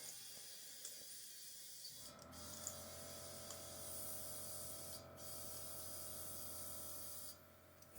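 Compressed air hisses steadily into a trailer tire to bring it up to pressure, a continuous close-up spray sound running for several seconds with brief breaks, over a humming compressor.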